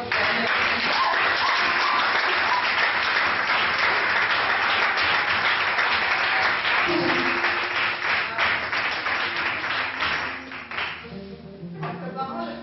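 A large church congregation applauding loudly and steadily, dense clapping that thins and fades toward the end with a voice briefly heard.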